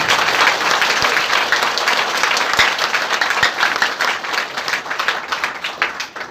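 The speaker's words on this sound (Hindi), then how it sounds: "एक बार फिर से ताली बजाइए आप लोग" An audience applauds at a gathering, a dense, steady wash of clapping that holds loud for several seconds and then gradually thins out.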